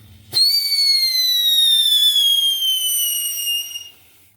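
A whistling firework from a Halloween fireworks show shrieks loudly after a sharp launch pop, its piercing tone gliding slowly downward for several seconds before fading out.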